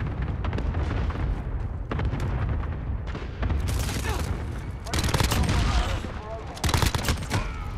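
Dense bursts of gunfire and explosions in the Modern Warfare video game fill the scene loudly and nearly continuously, rising to heavier volleys toward the end, with a player talking over the shooting.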